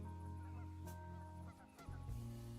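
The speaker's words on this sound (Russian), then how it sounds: "Ой, уточки." Ducks quacking in the adventure game Trüberbrook, a few honking, fowl-like calls close by over steady background music, with no talk.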